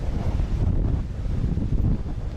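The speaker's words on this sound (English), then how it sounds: "it's very windy out here today" Outdoor wind buffets the microphone in a constant low, gusty rumble that swells and dips unevenly, with no other distinct sound on top.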